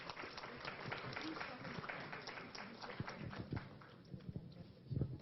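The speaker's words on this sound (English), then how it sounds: "Another round of applause," An audience claps after a talk on Hinduism at a Chicago event: a dense, steady wash of applause from a crowd, fairly distant and soft, with a few stray voices underneath and a louder flurry near the end.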